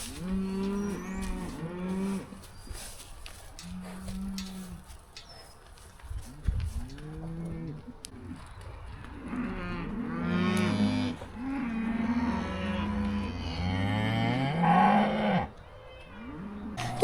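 Cattle moo repeatedly at varying distances, some lowing deep and drawn out, others rising into loud, close bellows, with several animals calling over one another in an outdoor farm setting.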